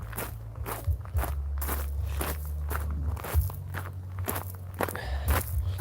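Footsteps of a person walking outdoors at dusk, a steady rhythm of close crunching steps over a low background hum and distant music with a bass drum.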